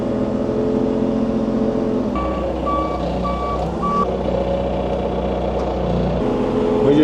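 A large Caterpillar earthmoving machine clearing a farm yard runs with a deep, steady engine rumble that swells briefly. A series of evenly spaced reversing beeps sounds over it partway through.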